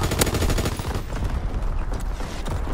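Primary battery fire in a World War II shooter, sounding as a rapid, continuous stream of loud gunshots that run without a break from start to finish.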